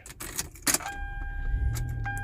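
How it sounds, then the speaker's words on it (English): A 2004 Toyota Camry starts using a newly cut flip key: key jangling and clicks, then the engine cranks and settles into a low steady idle, heard up close. "And then this one starts the car."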